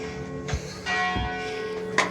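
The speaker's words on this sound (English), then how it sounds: "in time for the bells" Church bells ring overhead from a Paris bell tower, their long sustained tones hanging in the air, with a few thuds and knocks from nearby visitors.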